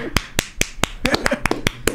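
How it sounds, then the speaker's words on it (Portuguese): A man applauds himself in a quick, loud run of about nine sharp, close claps spread unevenly over two seconds, with no talking between them. "tô me aplaudindo"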